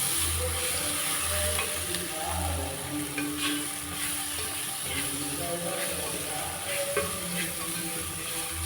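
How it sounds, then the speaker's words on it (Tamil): Ground masala is stirred into onions and green chillies frying in a pan for a baby prawn dish, giving a continuous sizzle with soft scraping stir strokes and a low hum underneath, no voices. "இனி நம்ம அரைச்சி வச்ச மசாலாயை இதில் போட்டுடலாம் போட்டு மிக்ஸ் பண்ணி விட்டுருவோம்"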